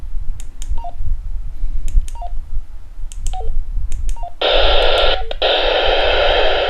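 A Berlin BL-968H handheld radio gives off a series of short button beeps over a low rumble. Its squelch then opens into a loud, steady rush of hiss with a brief break partway through.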